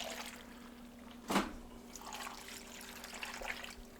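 Broth is poured over carrots, celery and potatoes for a venison roast, making a faint liquid trickle and splash with one brief louder gush, heard alone and close by.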